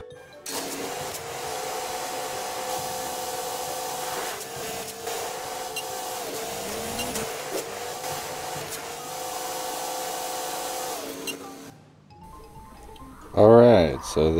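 A truck engine drones steadily in SnowRunner as the vehicle drives toward a marker, a continuous mechanical hum with rising and falling revs, ending in a short burst of other noise.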